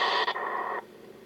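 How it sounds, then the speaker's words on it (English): Receiver hiss from an AOR AR5000 radio switched to a narrow 500 Hz filter: broadband static that suddenly drops to a much quieter, duller noise floor partway through, with no voices. "You can hear the difference in receiver noise when you go to the narrower filters."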